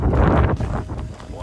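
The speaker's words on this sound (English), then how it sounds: "Still windy, still cool." Strong wind buffets the microphone on a cool, windy walk along the Camino between Estella and Logroño, a loud, close, rumbling gust that eases slightly toward the end with no talk.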